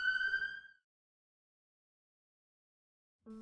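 An ambulance siren tone sounds briefly at the start, then silence, then a lower tonal burst at the very end.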